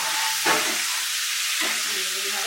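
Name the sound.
paneer pieces frying in oil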